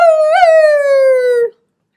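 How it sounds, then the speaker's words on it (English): A dog's single sustained howl, loud and close, sliding slowly downward in pitch for about a second and a half before cutting off into silence. "Cat used a silent dog whistle to make Dog howl in the middle of the night."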